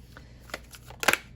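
Tarot cards being shuffled and drawn by hand, a few soft papery riffles and flicks ending in a brief louder burst, close and quiet with no talking.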